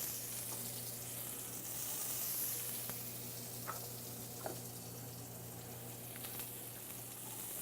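Pepper and onion sizzle in olive oil in a pan, a steady soft frying hiss running throughout with a few faint clicks and taps.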